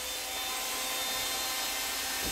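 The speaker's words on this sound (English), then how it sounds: "Run a Dremel." Dremel rotary tool running steadily on an off-grid power setup, a continuous high-pitched whine and hiss at even loudness throughout, with no talking.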